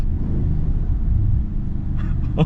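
A 2021 Maserati Ghibli Trofeo in Corsa mode gives a loud, steady low engine rumble, heard close from inside the car while driving, with a brief sharper rise near the end.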